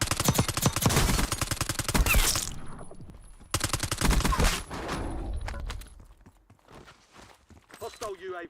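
Rapid automatic gunfire in a shooter video game, long dense bursts of fast rhythmic shots that stop, resume, then thin to scattered single shots, with voices calling out over the action.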